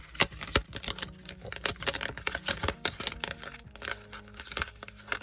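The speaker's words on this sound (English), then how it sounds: "I don't know how I'm supposed to shuffle these few bits of cards" A small deck of cards being shuffled by hand, a quiet, uneven run of soft papery flutters and taps close to the listener, with no talk.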